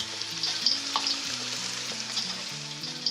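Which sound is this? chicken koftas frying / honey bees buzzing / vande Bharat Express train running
chicken koftas frying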